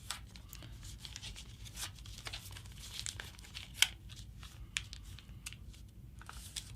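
Sheet of paper being creased and folded into a competition paper jet, soft crinkles and sharp crease snaps in an irregular rhythm, close and fairly quiet, with no one talking.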